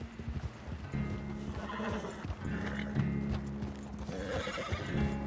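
A horse whinnies loudly while hooves clip-clop steadily beneath, with layered game-like background sound throughout, from Red Dead Redemption 2.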